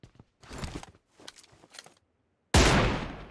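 A single loud gunshot in a video game, fired at an enemy on a rooftop, bursts out sharply after a stretch of quieter footstep-like shuffling and fades with a brief tail.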